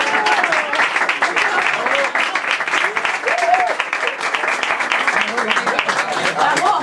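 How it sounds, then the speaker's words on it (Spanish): Audience applause at a book launch for a first novel, a dense, steady patter of many hands clapping throughout, loud and continuous with a few voices murmuring underneath. "Aplaudir."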